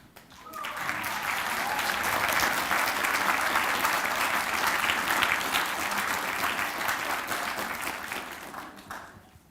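An audience at a Question Time panel event breaks into applause that swells quickly, holds as a steady wash of clapping, then tapers off toward the end.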